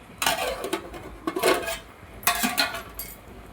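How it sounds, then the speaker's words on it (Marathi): A lid is set on a pot of crab curry over low gas, heard as three short bursts of metal clattering and clinking close by. "आता ह्याच्यावर झाकण ठेवायचं आणि बारीक गॅस करून ठेवायचं"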